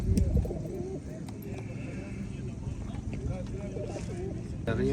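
Pigeons coo softly amid a busy, noisy animal market, with people talking nearby and occasional bird calls.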